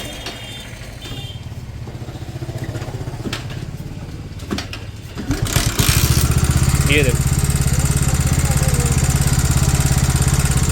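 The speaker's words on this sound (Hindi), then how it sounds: "इंजन का टाइमिंग चेन आवाज़ कर रहा है।" A motorcycle engine running dry with no engine oil, its timing chain rattling with a tappet-like ticking, idles steadily up close; a voice speaks briefly before the engine note grows louder and busier midway.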